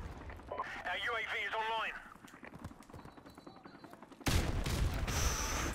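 In Call of Duty 4: Modern Warfare Remastered, during a team deathmatch on the Ambush map, game voices and tonal effects are followed by a sudden loud grenade blast. A dense burst of gunfire carries on right after it.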